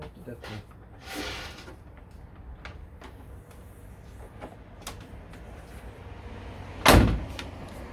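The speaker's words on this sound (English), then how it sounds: "I can close the door." A single heavy door of a 1969 Corvette slams shut nearby, a sharp thud standing out against a quiet background with faint shuffling before it.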